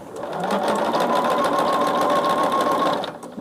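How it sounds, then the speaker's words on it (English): A sewing machine stitches a quilt strip in one continuous loud, fast whirring run, steady throughout before stopping just at the end. "And then I will sew it to the other side."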